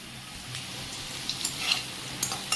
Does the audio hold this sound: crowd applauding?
no